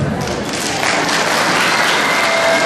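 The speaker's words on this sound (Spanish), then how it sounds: "fuerte voto de aplausos para nuestro amigo Marco Chunga Condori" Applause from an audience at a cultural evening for a performer, a continuous wash of clapping that holds steady and slightly swells toward the end.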